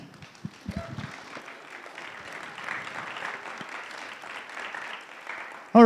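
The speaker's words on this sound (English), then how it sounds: "Give them a big round of applause as they go back to their seats." A church congregation at a camp Sunday service applauds while people walk back to their seats, moderate scattered clapping with some footsteps and shuffling, ending with a voice starting to talk.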